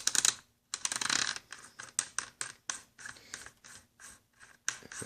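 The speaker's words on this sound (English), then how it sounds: "you want to start off with the magazine tube cap, and it has a detent in it, so you'll hear a clicking noise" Dry, quick detent clicks as the magazine tube cap is unscrewed on a Hatsan Escort Magnum 12 gauge semi-auto shotgun, coming in a close, steady run of small ratcheting ticks with brief gaps.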